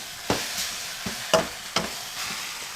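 Masala fries in a pan for pani puri at home. A spoon gives four or five distinct scraping stirs over a soft, steady sizzle, close and alone with no talking.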